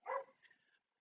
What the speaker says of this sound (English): Please pardon my dogs in the background.